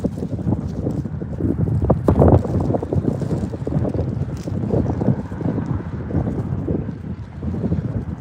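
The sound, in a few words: wind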